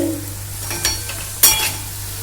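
Dhoka lentil cakes fry in a pan with a loud, steady sizzle close by, broken by a few sharp scraping and clinking stirs of the spatula, with a low electrical hum underneath and no talking.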